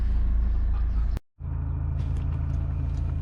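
A Peugeot car with a faulty crankshaft position sensor drives along, its engine rumbling steadily up close, broken by a brief moment of near silence before the low drone resumes.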